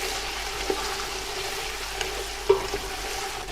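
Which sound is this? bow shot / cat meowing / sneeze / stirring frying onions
stirring frying onions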